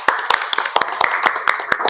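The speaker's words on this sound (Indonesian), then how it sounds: "Oke, tepuk tangan buat kita semua." A university class on Islamic banking claps together briefly, a quick irregular patter of a few close pairs of hands striking in short sharp bursts.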